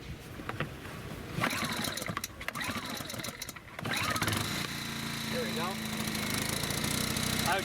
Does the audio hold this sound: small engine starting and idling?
yes